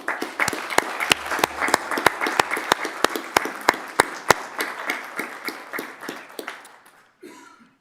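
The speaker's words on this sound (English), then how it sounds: "Let's give him a round of applause, please." Applause at a city council meeting for the Deputy of the Year, with a few close, sharp hand claps standing out over the broader clapping before it thins and fades near the end.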